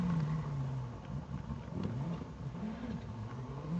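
A rally car accelerates along a gravel stage of a Vaucluse rally, its engine droning steadily in the middle distance with rising and falling revs, heard alone without talk.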